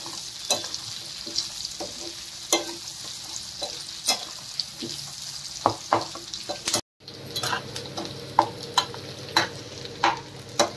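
Cashews frying in a pan for paneer masala curry, a steady close sizzle broken by frequent stirring scrapes and clicks, with a brief drop to near silence partway through.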